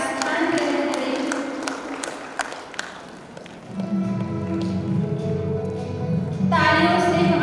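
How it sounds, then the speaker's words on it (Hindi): A crowd at a MahaShivratri festival gathering in Naya Raipur claps to welcome guests, a few seconds of close, crisp clapping that fades as a voice takes over and continues speaking. "तालियों से हमारे अतिथियों का स्वागत करते हैं।"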